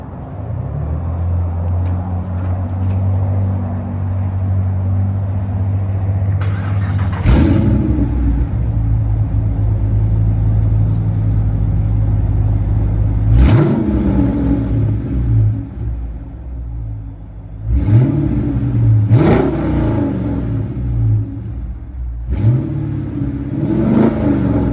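A 5.7 V8 car engine idles with a low rumble, then is revved hard several times, each blip rising sharply and dropping back, loud and close with no talking.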